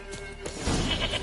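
A goat bleats once in The Witcher 3: Wild Hunt, a wavering, fairly close cry that swells in the second half of the moment and stands alone with no talk over it.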